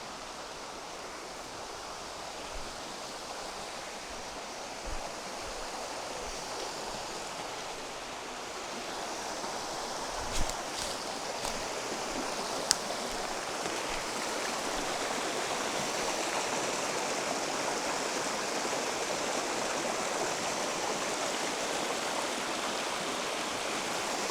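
A mountain creek flows steadily beside a campsite in Montana, a soft, even rush of water with a few faint knocks and clicks, no voices.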